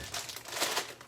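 A plastic bag crinkles softly as excess quiche dough is pushed into it, a brief, faint burst of rustling close by.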